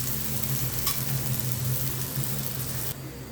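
Parotta frying in oil or ghee on a flat pan, a steady close sizzle running throughout, with a brief scrape partway through; the sizzle dips a little near the end.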